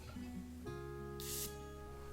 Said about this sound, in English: I will do a fresh spray maybe.